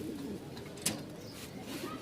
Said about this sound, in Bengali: আজকে মাশাআল্লাহ বেশ ভালো কিছু কোয়ালিটির কবুতর নিয়ে আসছি